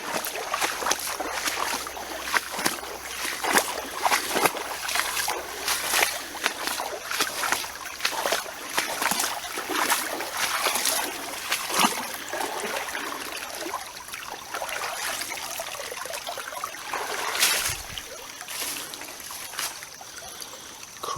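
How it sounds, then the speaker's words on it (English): An outdoor creek trickles and burbles steadily, a continuous watery wash broken by small splashes and light gurgles, fairly close and unbroken by talk. "An unexpected creek"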